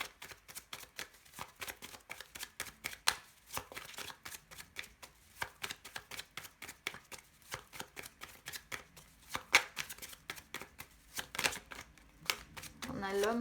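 Tarot deck being shuffled and cut, a long run of crisp rapid card flutters and riffles with short pauses, close and fairly quiet, with a little talk mixed in.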